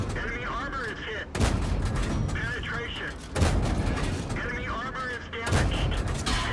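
KV-1 tank gun in a video game firing rapidly, three heavy booming blasts roughly two seconds apart, each with a long rumbling tail, loud and close, with a voice talking between and over the shots.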